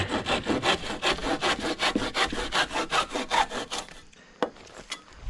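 A handsaw cuts through wood while trimming bracing on a barn build, with a steady run of about fifteen rhythmic back-and-forth strokes up close before the sawing stops and a couple of sharp knocks follow.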